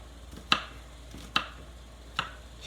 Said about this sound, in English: Chopping that carefully.